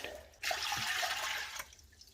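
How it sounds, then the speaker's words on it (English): Water pours into an Instant Pot for canning beef, a steady hissing splash lasting over a second, moderately close and fairly quiet, then cutting off. "Put some water in the Instapot."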